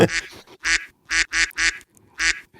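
A man imitates a duck with his voice, giving five loud, nasal quacks in quick uneven bursts, close and alone.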